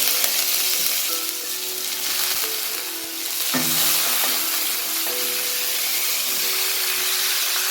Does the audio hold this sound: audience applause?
no